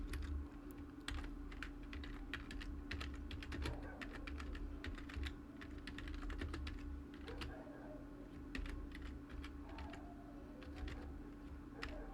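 Typing on a computer keyboard, with quick irregular key clicks in short bursts and pauses, close and quiet over a low steady hum.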